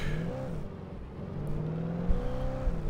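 A truck engine driving in the Alan Wake video game, a steady low engine drone with shifting revs rising and falling, moderately loud and close, heard alone without talk.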